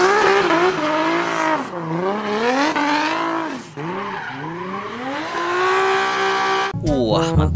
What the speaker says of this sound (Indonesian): Di sini ada mobil balap.